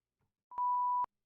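A steady censor bleep tone blares for about half a second, loud and clean against silence, with a faint click just before it.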